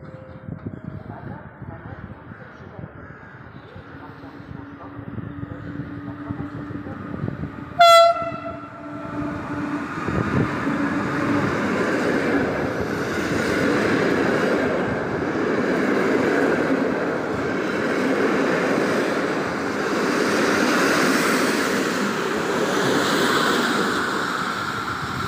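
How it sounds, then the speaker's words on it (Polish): A TLK Staszic passenger train on the Lublin Główny–Szczecin Główny route, hauled by EU160-015, arrives at Warszawa Wschodnia station: a loud horn blast sounds, then a rising rumble and rolling wheel noise as the train pulls in close. "Wjeżdża pociąg TLK Staszic relacji Lublin Główny, Szczecin Główny."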